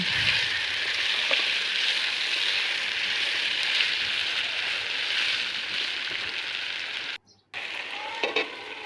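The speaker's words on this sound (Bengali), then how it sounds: "এখন আমি ভালোভাবে এগুলোকে কষিয়ে নিচ্ছি" Marinated chicken frying in a pan as it is stirred, giving a loud, even hiss of sizzling fat that runs throughout and cuts out for a moment near the end before resuming.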